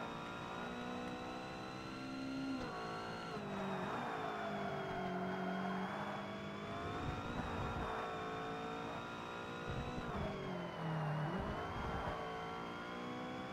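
A Ferrari race car engine in the Forza Motorsport video game drones and revs steadily throughout, with rising and falling pitch as it accelerates and shifts gears, loud and continuous with no talking.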